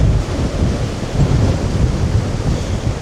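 Storm waves crash onto a Tenerife beach during Storm Therese under 60 mph gusting winds, a loud, continuous roar of surf and wind buffeting the microphone with no voices.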